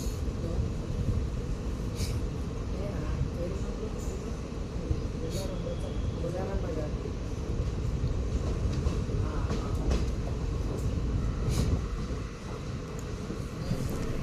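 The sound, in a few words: passenger train departing Alwal railway station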